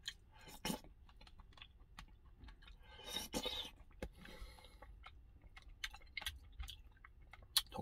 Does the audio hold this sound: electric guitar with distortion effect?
no